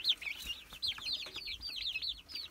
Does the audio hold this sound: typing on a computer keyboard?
no